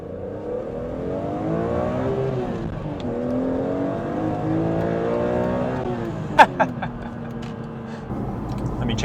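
A naturally aspirated car engine revs out to around 8,000 RPM, its tone climbing in repeated sweeps before dropping back, close and loud, with a few sharp clicks near the end.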